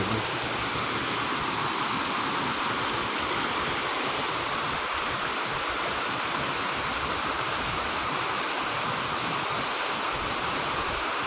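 Steady rushing water pours without pause, a dense, even hiss of a small waterfall heard close by with no other sounds.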